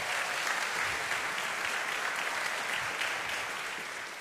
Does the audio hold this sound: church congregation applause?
yes